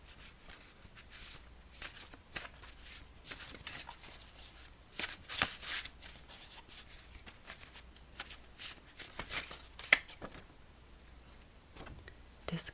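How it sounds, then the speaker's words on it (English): Affirmation cards are shuffled and pulled in a soft, whispery ASMR setting. Faint, close riffles and crisp slides recur irregularly, with occasional light taps and no talking. "I'm going to be pulling some cards of affirmation to see what sort of message we need to hear today"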